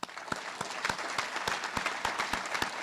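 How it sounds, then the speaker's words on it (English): A round of applause at a police academy graduation ceremony, with individual claps standing out sharply over a steady, continuous clapping crowd. "please join me in another round of applause."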